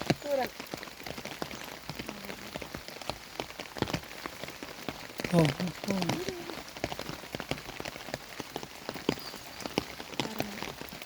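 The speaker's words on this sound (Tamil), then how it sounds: "லைட்டாக மழை பெஞ்சிட்டு இருக்கு" Light rain falls steadily, pattering on surfaces with scattered close drips, while a voice talks intermittently over it.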